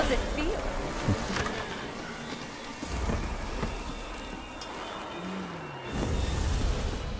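A dense, steady buzzing of a swarming mosquito horde in a video game fills the clip, with a brief voice-like tone rising over the drone.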